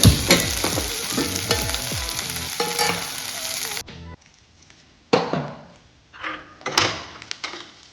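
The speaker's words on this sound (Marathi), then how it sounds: "एक दोन मिनिट आपण ह्याला परतून घ्यायचं" Ingredients for a fasting kheer sauté in a hot pan, giving a loud, close sizzle with scraping stirs that stops abruptly, followed by a few separate clattering stirs and knocks.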